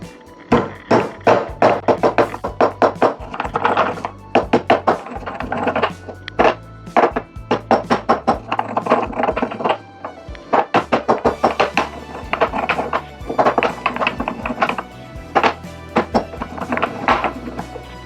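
Black pepper and spices being pounded on a grinding stone, a fast run of sharp, close knocks in bursts, with short pauses between rounds.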